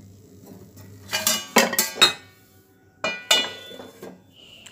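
A lid set over a pot of Bengali vegetable curry (shukto) in a home kitchen, making a few sharp metallic clanks and clinks in two short clusters, close and fairly loud against a quiet room.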